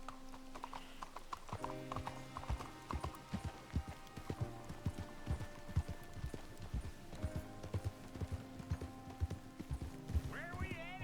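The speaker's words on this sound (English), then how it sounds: "You got a horse? Get on it." Horse hooves clip-clopping at a steady gallop in the video game Red Dead Redemption 2, continuous and close, with a neigh, background music and people talking over it.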